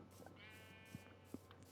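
Sheep in Minecraft bleat in a single clear, wavering call near the middle, with a couple of soft knocks afterward and no talking.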